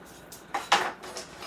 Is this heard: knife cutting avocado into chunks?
yes